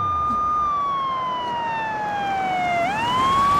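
A wailing emergency siren, the ambulance kind, holds a long steady tone that slowly falls and then rises again, loud and close, with no talk over it.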